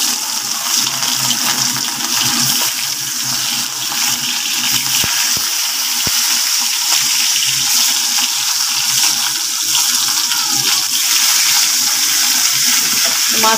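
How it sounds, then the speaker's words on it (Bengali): Pieces of rohu fish fry in hot oil in a wok, a loud, dense, continuous sizzle that holds steady throughout with no talk. "এখন আমি মাছগুলো দিয়ে দিচ্ছি একে একে।"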